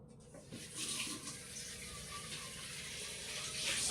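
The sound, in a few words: rinsing a pan with tap water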